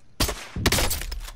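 Gunfire in Call of Duty: Modern Warfare, two sharp shots in quick succession, the second followed by a rumbling tail and a brief ringing tone, no voices.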